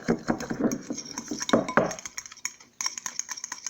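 Slime being mixed in a container with seeds and slushy bits added, wet clinking and scraping strokes in a quick uneven rhythm, close and fairly loud, pausing briefly before faint clicks resume.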